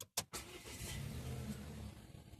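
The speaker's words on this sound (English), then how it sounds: "Hear that 2-liter twin turbocharged 4-cylinder roar to life." A 2018 Volvo XC90 T6 R-Design with a 2-liter twin-turbo four-cylinder starts: a quick starter click, then the engine catches and settles into a steady low idle, heard close and fairly quiet.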